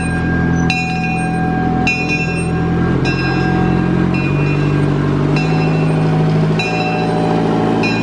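The Zephyr miniature amusement park train at Dorney Park, Allentown, Pennsylvania, rumbles along steadily with rhythmic clatter and periodic metallic rings, loud and close throughout.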